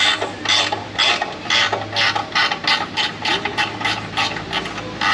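A ratchet working a bolt loose on a 2007 Mazda CX-7 2.3: a quick run of sharp, evenly spaced clicking bursts, close and fairly loud, repeating steadily for several seconds with no talking.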